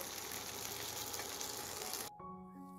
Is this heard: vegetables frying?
yes